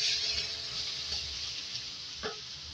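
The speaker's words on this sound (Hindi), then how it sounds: "धनिया, हल्दी, लाल मिर्च ऐड करेंगे और इसके बाद इसकी भुनाई करेंगे।" Coriander, turmeric and red chili roast in a hot pan for a bottle gourd curry, giving a steady close sizzle with faint stirring scrapes and a brief clink near the end.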